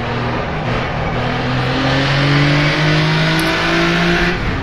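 A Jaguar D-Type's engine in the rFactor2 racing simulator on the Isle of Man Mountain Course drones loud and close, holding a steady revving note with slowly rising pitch.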